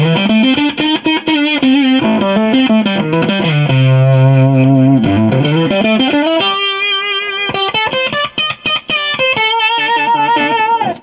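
Distorted guitar with a Moose Customs octave fuzz effect, playing a melodic line with sliding notes and thick upper harmonics, loud and close. No speech.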